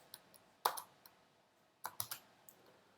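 Scattered clicks of computer keyboard keys being typed, a few sharp taps and quick clusters spread over a quiet background, close and fairly faint.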